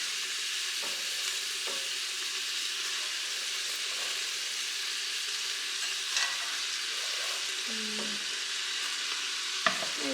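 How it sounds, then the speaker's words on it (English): Onions sautéing in a pot with cabbage being added for a cabbage stew, giving a steady, even sizzle and hiss throughout with a few soft stirring scrapes and a brief clunk near the end, no voices. "I'm going to saute this until the onion gets translucent and soft. Next I'm going to add the cabbage."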